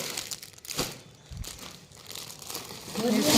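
Thin plastic carrier bag crinkling and rustling in irregular bursts, close by, with a louder crumpling flurry toward the end; brief voice sounds mix in.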